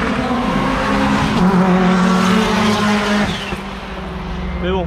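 A Subaru rally car races along a stage close by, its loud engine revving and shifting through gears while a rival Peugeot 206 pushes right behind it, with a commentator's voice running over the engine roar.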